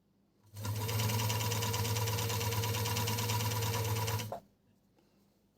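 A GEMSY GK-357 coverstitch sewing machine runs steadily for about four seconds, a close, loud, even mechanical whir with a rapid stitching rhythm that starts and stops abruptly, with no talking.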